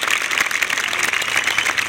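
Audience applause at a live variety show, a dense, steady wash of many hands clapping at once, loud and sustained without pause.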